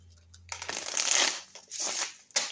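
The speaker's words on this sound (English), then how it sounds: "Okay, quick shuffle here." A deck of tarot cards gets a quick shuffle up close, two or three brisk riffling bursts of papery flutter with short pauses between them.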